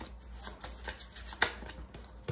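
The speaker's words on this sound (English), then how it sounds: "I've been shuffling for a long time." A deck of tarot cards is shuffled by hand, giving a soft, quiet run of papery riffles and flicks with a few sharper snaps, close by and with no voices.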